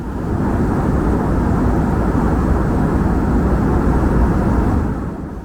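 Steady, loud cabin roar inside a United Embraer 145 regional jet cruising above the clouds, a broad constant engine and airflow rumble with no variation or voices.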